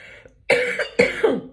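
A woman coughs in three harsh bursts, the first after a brief throat noise, close and fairly loud with no talk.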